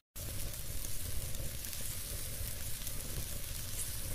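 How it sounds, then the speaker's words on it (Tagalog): Chicken pieces sizzle steadily while being sautéed for ginisang sayote, a dense continuous frying hiss that stays loud and close throughout with no talk over it. "Isunod naman po natin igisa ang chicken."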